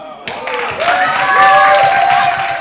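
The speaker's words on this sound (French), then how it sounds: "Est-ce qu'on peut applaudir" Audience at a children's theatre festival breaking into applause, a swelling wash of claps that builds and holds steady, with a voice and sustained tones ringing over it.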